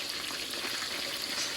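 Steady, dense sizzling and crackling of chicken frying in hot oil, continuous and fairly loud throughout, with no voices.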